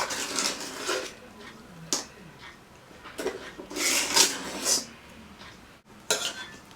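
A spoon scrapes and clinks around a bowl while chocolate meringue mixture is stirred, giving irregular close scraping strokes with sharp knocks against the bowl's side.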